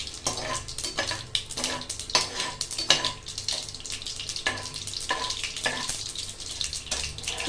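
Mustard seeds splutter and pop in hot oil while cooking one-pot sambar, with steady close sizzling broken by frequent sharp crackling bursts and the occasional clatter of a pan, with no voices.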